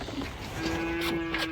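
Cows lowing on a farm, a couple of drawn-out moos at moderate distance over a steady low hum, with no talking.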